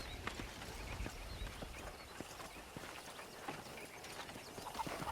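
Steady clip-clop of horse hooves at a trotting pace in the video game Red Dead Redemption, close and continuous, over faint ambient background with no talking.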